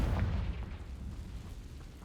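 Confringo spell explosion in a Hogwarts wizarding video game: a deep, rumbling boom hits at the start and decays into a long, low, noisy tail with scattered crackles.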